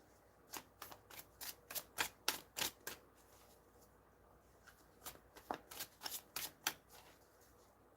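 Tarot cards are shuffled in a quick run of crisp riffling snaps, first a rapid series and then a second cluster after a short pause, all close and fairly quiet.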